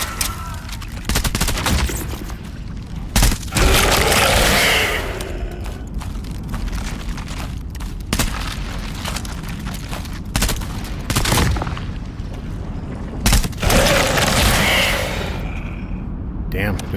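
Bursts of gunfire in the shooter game Into the Radius 2, loud rapid volleys and single cracks at irregular intervals, with someone talking between them.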